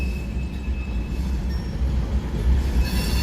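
Empty and loaded freight cars of a heavy train roll past close by, a steady deep rumble with faint wheel squeal and no voices.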